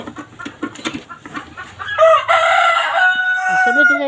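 Chickens cluck in quick scattered notes, then a rooster lets out a loud, drawn-out crow close by.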